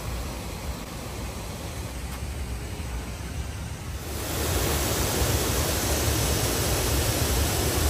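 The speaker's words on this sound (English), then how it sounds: "Waterfalls everywhere around water park here." Waterfalls at a cruise ship water park send out a dense, continuous rushing of falling water that grows noticeably louder partway through, with no voices.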